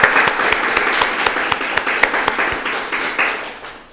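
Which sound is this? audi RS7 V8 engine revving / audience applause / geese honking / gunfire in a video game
audience applause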